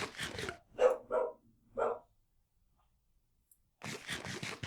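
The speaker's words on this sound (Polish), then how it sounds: "Mój pies wyzywa się z jakimś innym psem." Dogs bark back and forth, with a few loud, close barks in quick succession, a short silent pause, then a denser burst of barking near the end.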